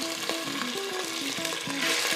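Small pieces of chicken frying in a pan, a busy crackling sizzle with stirring clatter and a few tonal scrapes, close and steady, no talking.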